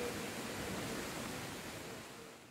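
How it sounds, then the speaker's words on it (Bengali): Steady broadband hiss of rain pouring down outdoors during Cyclone Amphan, loud and continuous without pauses, easing slightly toward the end, with no voices. "আবার বৃষ্টি স্টার্ট হয়ে গেছে"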